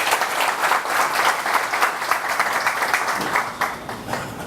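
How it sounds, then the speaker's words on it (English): Sustained audience applause at a book signing event, steady and dense from many hands, with a slight easing toward the end and no talk over it. "and a big round of applause for them"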